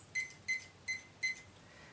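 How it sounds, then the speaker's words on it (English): An alarm timer being set gives four short electronic beeps, evenly spaced and fairly quiet, close by with no talking. "I'm going to set this alarm to go off in 20 minutes."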